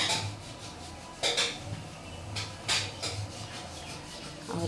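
Sago, vermicelli and cashews tip into a pot of milk for paal payasam, giving soft scraping and clinking of utensils against the pot in a few short bursts, fairly quiet and close with no talking.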